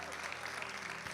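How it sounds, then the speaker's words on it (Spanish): Applause from a church congregation, a steady broadband clatter of clapping that fills the short moment, with a low hum underneath. "¿Alguien le da un fuerte aplauso a Jesús en esta mañana?"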